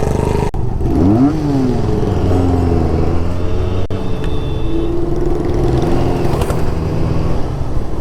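A motorcycle engine and exhaust hum steadily while riding, with a couple of rising and falling pitch sweeps as the throttle shifts, loud and close, with wind noise over it.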